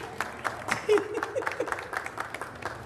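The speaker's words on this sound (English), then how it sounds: "okay, clap now" Scattered clapping from an audience at a celebration night, a loose run of individual claps rather than a dense ovation, with faint voices mixed in.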